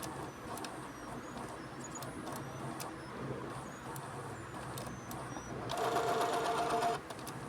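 An inkjet printer runs its head cleaning cycle with a quiet, steady mechanical whir, then a louder, higher buzzing passage near the end, heard faintly and close.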